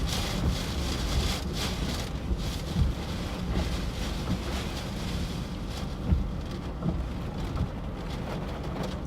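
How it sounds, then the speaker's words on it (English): Strong wind gusts during a severe storm chase near Cedar Rapids, Iowa, roar hard against the microphone in a loud, unbroken rush that surges and eases across the whole stretch, with a rain-like hiss mixed into the buffeting. "Big wind."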